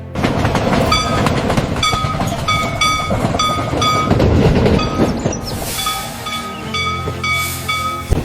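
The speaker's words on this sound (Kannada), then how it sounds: "ಇನ್ನ ಸ್ವಲ್ಪ ಹೊತ್ತಿನಲ್ಲೇ ಟ್ರೈನ್ ಬರ್ಬೋದು. ನೋಡಿ ನೋಡಿ ಬಂದೇ ಬಿಡ್ತು." A train pulls into a station platform with loud, rolling clatter of wheels on track, then a sustained horn or whistle sounds near the end.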